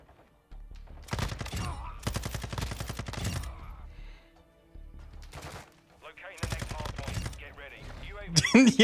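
Bursts of SAKIN MG38 light machine gun fire in Modern Warfare 2, several sustained volleys loud and close with short gaps between them, with a voice talking at times over the shooting.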